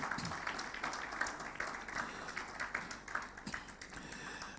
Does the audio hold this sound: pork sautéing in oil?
no